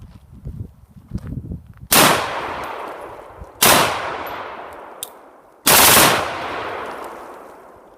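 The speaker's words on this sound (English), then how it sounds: "I'll do a couple of semi-automatic shots and then we'll try a short burst in full auto." An AR-15 pistol chambered in 6.8 SPC fires outdoors during a field test: three loud, sharp blasts spaced a couple of seconds apart, each trailing off in a long echoing decay, the last a short full-auto burst.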